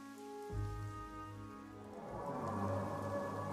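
Rain falls steadily on a balcony, a soft continuous patter under a low background tone that thickens into a denser wash of drops toward the end, with no voices.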